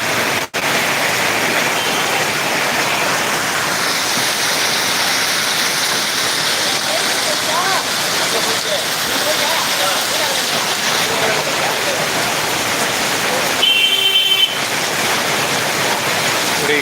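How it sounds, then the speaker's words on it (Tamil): Heavy rain pours down in Ariyalur, Tamil Nadu, a loud, unbroken hiss of falling water that stays dense and steady for the whole stretch, with a brief tonal blip near the end. "கால் மணி நேரமாக பெஞ்சிக்கிட்டு இருக்கு நல்ல மழையா"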